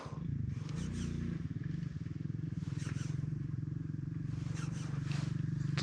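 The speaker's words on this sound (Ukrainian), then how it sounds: "Хтось приїхав на мотоциклі." A motorcycle idles and rumbles steadily nearby at a quiet fishing spot, its low engine drone continuous throughout with light scraping and clatter on top.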